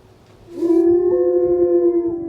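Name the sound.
wolf howling at an animal sanctuary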